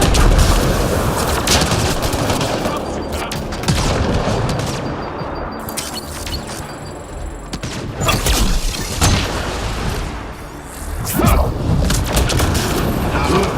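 Loud, dense battle din from Mass Effect Andromeda: heavy booming explosions and rapid bursts of gunfire run continuously, with a few sharper blasts standing out near the end.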